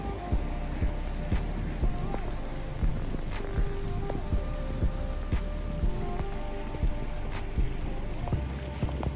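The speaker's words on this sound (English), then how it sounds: "It is raining." Steady rain patters on a hard surface at Clemson University, with a constant hiss and scattered louder drips, near and fairly loud, no voices.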